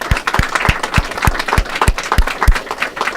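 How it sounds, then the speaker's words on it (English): A county budget signing crowd gives a round of applause, a close, loud burst of overlapping hand claps with a few sharp, regular claps standing out over the continuous patter. "I'm going to personally lead in a round of applause for what you've done."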